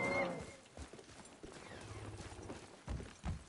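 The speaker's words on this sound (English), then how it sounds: "Well, he is beating his horse." Rhythmic hoof clip-clop with scattered thuds and a brief whinny-like squeal as a horse is beaten and driven along in the PS4 game God of War, amid background clatter.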